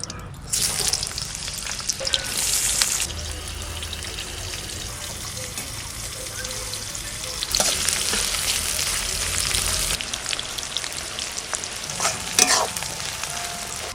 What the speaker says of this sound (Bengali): বেরেস্তা আর আলুটা ভেজে নেবো এবার।